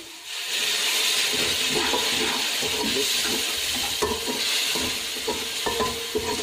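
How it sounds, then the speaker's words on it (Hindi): Steady sizzling of food frying in a pan for kadhi pakora, with scraping and clinking of a utensil stirring throughout. "इसे ज़्यादा देर नहीं आपने भूनना"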